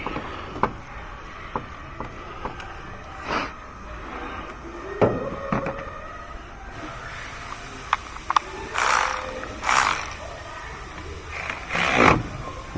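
Ratchet clicks while tightening engine mount bolts on a 2006 Honda Ridgeline, heard as sporadic mechanical ticks and short ratcheting bursts near the mic, with no talk.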